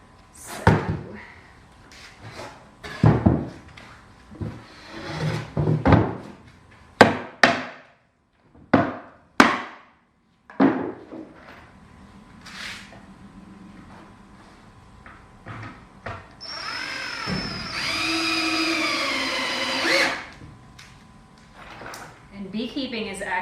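A cordless driver sinks screws into a wooden beehive super: a few sharp knocks and taps of wood handling, then a close, loud motor whirr that rises in pitch for several seconds before stopping.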